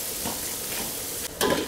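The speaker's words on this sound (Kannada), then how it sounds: "ಈರುಳ್ಳಿ ಇದೆಲ್ಲ ಬೇಯ್ತಾ ಇದೆ" Onions frying in a pan of oil, a low steady sizzle with a brief dip near the end, then a sharper burst of crackling.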